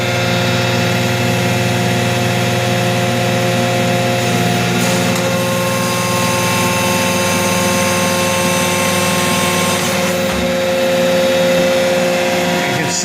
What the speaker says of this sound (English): this is a hydraulic motor